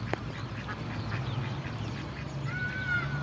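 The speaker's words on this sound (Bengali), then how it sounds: "দেখেন এখানে অনেকগুলো হাঁস" A flock of ducks at a fish-farm pond quacks in a run of short nearby calls over a low background hum, with a higher drawn-out call near the end.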